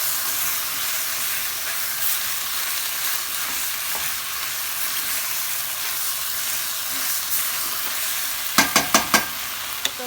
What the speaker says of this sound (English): Mix it in there so it could start frying with the meat